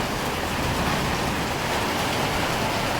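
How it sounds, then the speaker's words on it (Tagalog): Heavy tropical rain pours steadily during a thunderstorm, a dense, loud, unbroken hiss of drops hammering surfaces nearby, with no voices over it. "Thank you Lord sa ulan."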